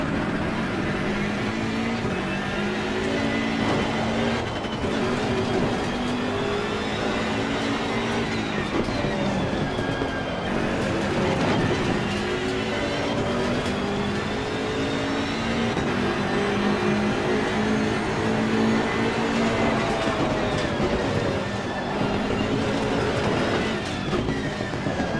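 A BMW GT3 race car driven around the Misano circuit in Assetto Corsa Competizione, engine note rising and falling through gear changes with tire and road rumble, loud and continuous for the whole stretch.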